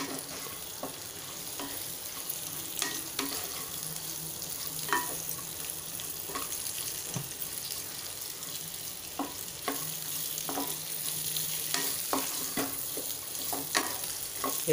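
Sweet potato slices fry in ghee in a pan as they are stirred, giving a steady, soft sizzle broken by occasional clicks and scrapes of the spoon, with no talking.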